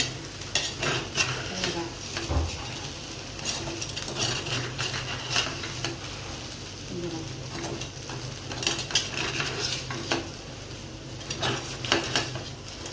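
Sabudana khichdi is stirred and scraped from the bottom of a pan with a spoon, making a steady run of scraping and clattering against the metal over a soft sizzle.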